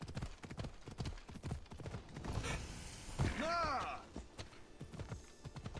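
Horse hooves clip-clopping in Assassin's Creed Odyssey: a steady run of hoofbeats under game music and effects, fairly quiet overall, with a brief whooshing swell midway.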